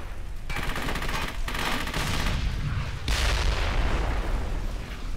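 Heavy weapon fire booms in a World War II video game, with dense rapid bursts and sharp loud blasts filling the clip, one strong report marking a new burst partway through.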